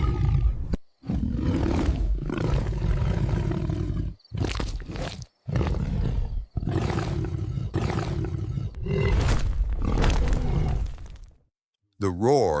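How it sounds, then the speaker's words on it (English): A starving male lion roars at night in the savannah: a run of long, loud, guttural roars close by, broken by brief silent pauses. "The roar shatters the stillness of the night."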